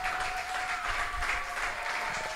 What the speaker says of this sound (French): Acclamez très fort pour notre pasteur Enoch.